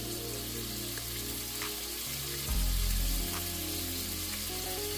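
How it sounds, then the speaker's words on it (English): Beef sautéing in a pan for a hearty stew gives a steady broadband sizzle with light crackle, holding at one level and briefly swelling louder midway, with no voices. "So we got our beef sauteing"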